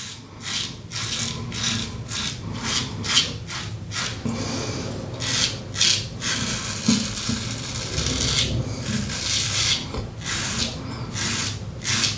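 A Pearl single edge safety razor scrapes through stubble in repeated short rasping strokes, close and fairly quiet, with a rough rhythmic rhythm of bursts and brief pauses.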